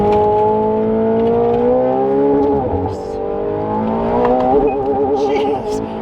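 A McLaren 720 sports car accelerates hard on a track, its loud engine note climbing through rising pitch sweeps with gear shifts, while people talk over it.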